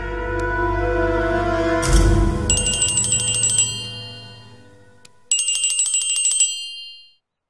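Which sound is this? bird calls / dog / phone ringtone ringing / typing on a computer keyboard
phone ringtone ringing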